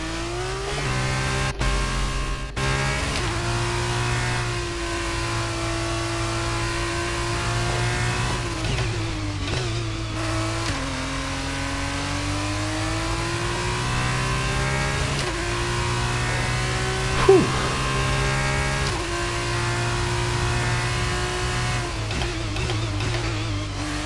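An F2 race car in F1 22 at Bahrain gives a steady, loud engine drone that rises and falls through gear changes as it accelerates and revs, with a brief tire squeal and no talk.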